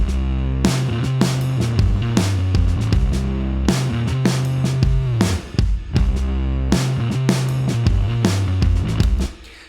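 Full music mix run through an SSL VCA-style mix bus compressor, punchy drums and heavy bass pumping under steady clamping, a dense rhythmic groove with a brief break midway; no talking.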